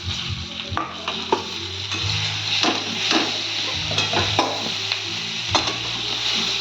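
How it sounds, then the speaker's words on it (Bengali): Brinjal and potato stir-fry in a pan with a continuous close sizzle, punctuated by repeated scraping and clinking strokes of a spatula against the pan. "তাহলে আমি বেগুনটা আলুটা কষিয়ে নিই"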